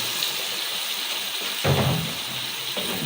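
Water from soaked cut potatoes being poured off in a kitchen, a steady splashing rush that swells briefly in the middle, loud and close.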